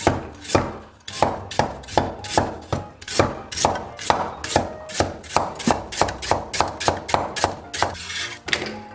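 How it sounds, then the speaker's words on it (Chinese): A knife chopping ginger into thin slices on a new cutting board, giving a steady run of crisp, close thunks at a brisk, even pace, about two to three strokes per second, with no talk. "然后咱们把姜给它切成薄薄的厚片儿"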